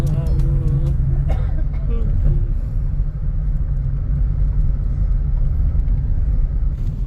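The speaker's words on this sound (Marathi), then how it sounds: "बघ गाडी बघ गाडी गाडी आली" A car rolls up on a road near a temple village outside Pune, its low engine rumble steady and fairly loud, with a voice briefly heard at the start.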